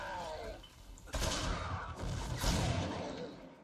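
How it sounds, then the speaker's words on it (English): Shotgun blasts in the zombie survival game 7 Days to Die, several loud broadband bursts in quick succession with rumbling tails, dense and close, no talk over them. "I haven't used a shotgun in a long time. This is fun. It's loud as fuck, though."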